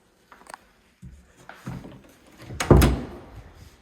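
A coat closet door in a house opens and closes with soft clicks, a bump and a louder thud near the end, close and alone without talk.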